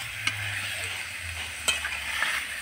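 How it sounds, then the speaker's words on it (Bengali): Pieces of meat cook in a pan while being stirred, a soft continuous sizzle of released juices with a few sharp utensil clicks and scrapes against the pan, close but quiet. "মাংসগুলোকে আমি এবার নেড়ে দেবো।"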